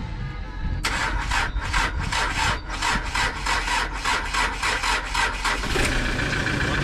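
A car engine cranking on a starter with a steady, rhythmic chugging that repeats for about five seconds before it catches and settles, loud and close, during a car trip to a mountain river near Sochi.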